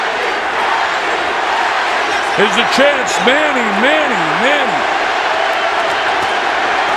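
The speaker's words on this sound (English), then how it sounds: "The crowd is in an absolute frenzy." A boxing arena crowd at Pacquiao vs Margarito roars in a continuous loud din, rising in surges of cheering beneath a commentator's excited talk.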